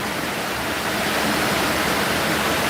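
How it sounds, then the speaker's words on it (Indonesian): Heavy rain pours onto a zinc sheet roof with a PVC ceiling beneath, a dense, loud, unbroken hiss that stays even throughout with no voices. "hujannya memang deras sekali"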